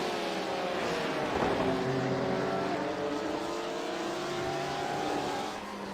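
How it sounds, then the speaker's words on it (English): A Porsche RSR GT race car engine at Barcelona wails at high revs, passing nearby with a rising and falling pitch sweep, loud and steady under the broadcast bed. "The glorious sound of the RSR."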